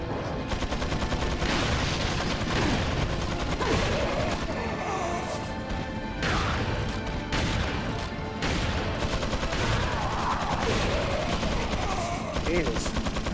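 Rifle gunfire rings out in the Resident Evil 4 video game, with rapid repeated shots and crashes forming a dense, continuous barrage at moderate level.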